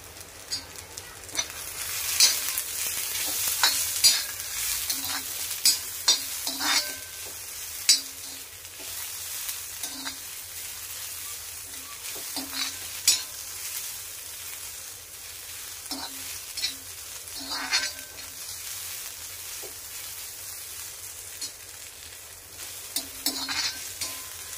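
Whole spices for a crab masala are dry-roasted in a pan, with a faint steady sizzle broken by irregular scrapes and clinks of stirring. Nobody speaks.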